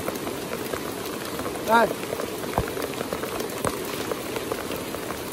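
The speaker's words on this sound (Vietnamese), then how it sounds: "sợ trời mưa to, thật trời mưa to thật" Heavy rain falling in a forest in Bac Kan, a dense continuous patter and hiss throughout, with a short spoken word and a few sharp knocks over it.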